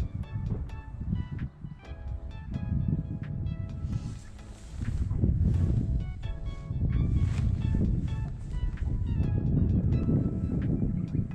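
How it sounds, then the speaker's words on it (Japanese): Strong wind buffets the microphone at Nakayama River Dam during a fishing trip, a loud steady roar that swells and gusts throughout with no clear talking. "風が強いんだよね。"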